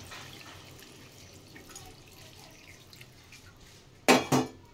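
Hot water is poured from a vessel into a pot of cooking chicken curry, a loud splashing burst lasting under a second after quiet kitchen background, followed by a brief second splash.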